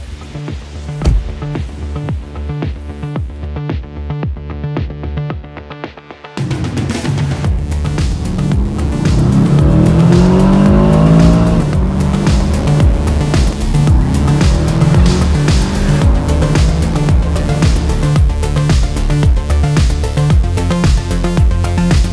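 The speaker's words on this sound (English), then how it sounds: "let's do the test drive with aston martin" An Aston Martin DBX707 SUV is test-driven in snow at St. Moritz during a blizzard. A quieter cabin stretch gives way to a loud, sustained engine run with rising and falling revs and some tire noise.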